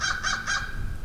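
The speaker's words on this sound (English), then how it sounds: "Crow." Three harsh caws from a crow in quick succession, fairly close, with a faint outdoor background at a lake.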